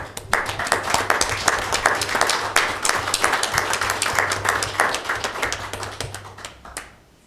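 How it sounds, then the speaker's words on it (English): Warm applause from the audience at a city council meeting honoring Blue Water Navy veterans, steady crowded clapping close by that tapers off near the end, with a few voices mixed in. "these guys all deserve a round of applause"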